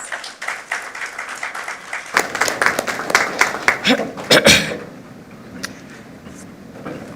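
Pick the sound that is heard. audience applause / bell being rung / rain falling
audience applause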